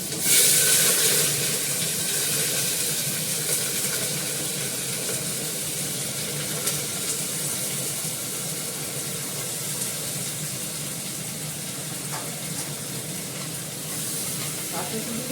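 Cumin seeds and green chilli sizzling in hot oil with potatoes in a home kitchen pan, a steady loud crackling hiss that starts with a burst and continues evenly, with a few clinks of utensils.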